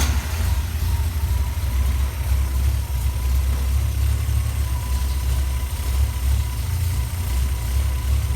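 A 1964 Mercury Comet engine idles with a slight lope, a steady low rumble with a rhythmic pulse that stays even throughout, close to the car with no talking.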